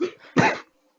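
A single harsh cough, short and close, following a brief muffled throaty sound, then silence.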